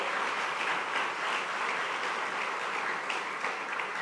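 A church congregation at a sermon applauds in a steady, continuous wash of clapping that stays fairly loud and even throughout, with no single voice standing out.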